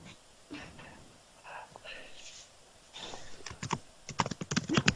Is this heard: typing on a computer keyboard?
yes